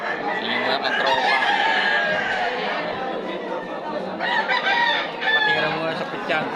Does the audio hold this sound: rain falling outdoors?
no